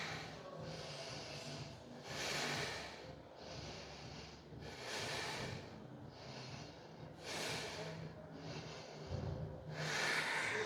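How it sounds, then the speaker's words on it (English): Deep, slow breathing during a yoga bridge pose: about five soft, airy breath cycles in an even rhythm, each a broad hushed swell, close and quiet with nothing else over them. "5 deep breaths."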